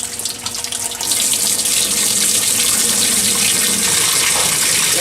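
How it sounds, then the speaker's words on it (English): A steady, loud gush of water runs from a hose in a shop, starting softer and then flowing strongly and continuously, close by with no talk. "we got a little water falling here"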